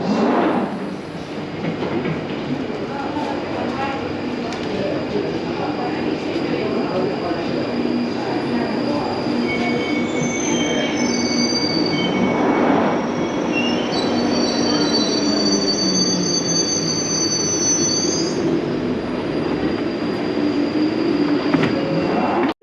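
London Underground Northern Line train arriving at Colindale Station, bound for Edgware, rumbling in and braking with long high wheel squeals, loud and sustained on the platform; no clear talk over it.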